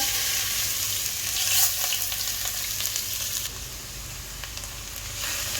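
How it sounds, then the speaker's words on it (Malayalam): Three grated carrots fry in a pan for a carrot sago payasam, giving a loud, close, continuous sizzle with some soft stirring scrapes and no voices. "ഇതേ പാനിലേക്ക് ഞാനൊരു 3 ക്യാരറ്റ് ചിരകിയതും കൂടി ആഡ് ചെയ്യുന്നുണ്ട്."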